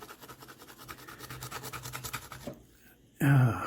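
Rust is scrubbed off the blade of a Queen fixed blade knife in quick, rhythmic rasping strokes, close and fairly quiet, ending in a short pause and then a louder clatter.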